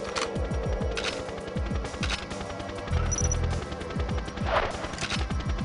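A remote mine detonates with a heavy boom in GoldenEye 007 on the Nintendo 64, set amid rapid bursts of automatic gunfire that crackle before and after the blast.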